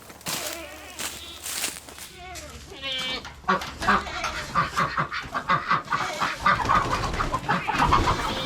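Chickens cluck and squawk in a homestead chicken run, several birds calling in irregular bursts close by while a person talks over them.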